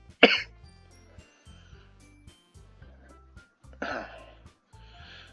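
Two sharp coughs, one near the start and one a few seconds later, stand out over a steady backing of soft game music.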